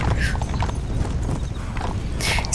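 A horse's hooves clip-clop in the zombie western video game Undead Redemption, a fairly loud, continuous rumble of hoofbeats with a brief whinny-like rise near the end, without speech.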